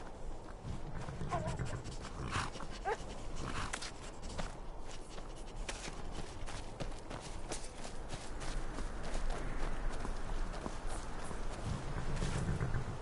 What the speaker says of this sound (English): war dog is good company.